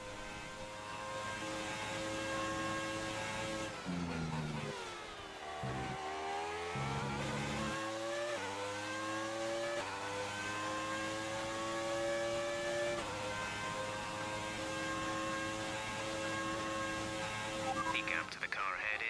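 Engine of a classic race car in a racing video game, revving steadily and climbing through gears over about nineteen seconds, with rising and falling pitch sweeps as it shifts, loud and continuous.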